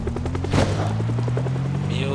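A helicopter passes during the in-game event in the survival video game Project Zomboid, its rotor chopping in a steady rhythmic pulse. Bursts of gunfire and someone talking sit over the thumping.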